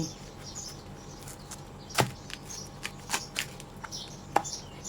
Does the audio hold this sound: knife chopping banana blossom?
yes